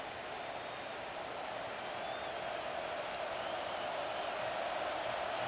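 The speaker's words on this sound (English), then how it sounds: "I know this crowd is loud" Steady, loud roar of a packed stadium crowd at a college football game, Missouri Tigers playing at Nebraska, forming a continuous dense wash of noise for several seconds with no clear individual voices.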